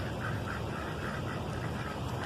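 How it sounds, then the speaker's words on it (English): Ducks quacking repeatedly in a steady, overlapping chorus against constant background noise, with no talking. "Anyway, those were ducks."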